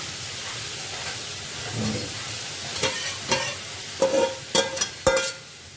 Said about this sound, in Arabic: وطبعا بعد ما المكونات بتاعتنا كلها غليت هنبدأ ننزل بيها الطاجن السخن